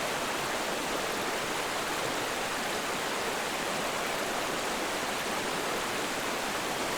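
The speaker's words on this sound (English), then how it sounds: "But Boto will never survive in the rushing river" Rushing river water pours in a steady, loud broadband roar that stays unbroken and even throughout, with no voices.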